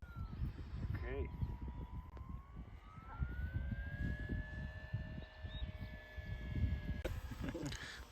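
Small aircraft petrol engine in flight at an air show, a steady droning tone whose pitch rises and then holds, heard from some distance under a wind-like rumble and people talking.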